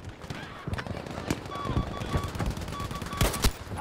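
Gewehr 43 semi-automatic rifle firing in the video game Battlefield V: a rapid, uneven string of close gunshots with other battle noise, under someone talking.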